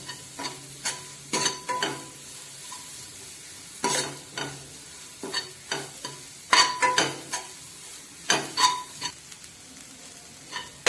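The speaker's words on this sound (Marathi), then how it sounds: "आता ही चांगली 1-2 मिनिटं चांगली परतून घ्यायची आहे, थोडीशी लालसर होईपर्यंत।" Sambar ingredients sautéed in a pan over raised gas until reddish: irregular scraping stirs and soft clatter over a faint sizzle, close and fairly quiet, with no talking.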